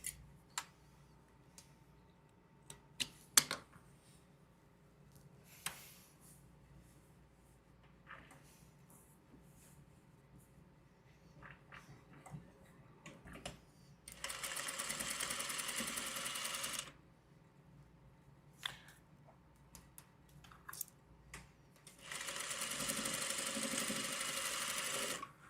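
A sewing machine stitches through a fabric scrap in two steady, buzzing runs of a few seconds each, separated by quiet clicks and handling taps, close up with no talk.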